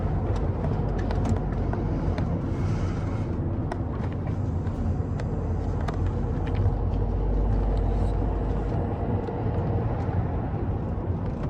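A 2011 Volvo C30 D3 diesel hatchback cruising on the road at steady speed with the engine ticking over in a high gear, giving a constant low rumble with road and tyre noise inside the cabin, no voices.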